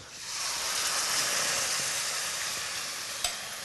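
Garlic and chili sizzle in hot olive oil in a frying pan, a steady loud hiss of frying throughout with a brief clink near the end and no talking.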